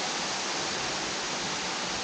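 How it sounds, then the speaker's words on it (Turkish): Steady, dense roar of Doğançay waterfall in Sakarya, Turkey, a continuous broadband wash of falling water that stays even and loud throughout without any break. "Doğançay'da bulunan Doğançay Şelalesi."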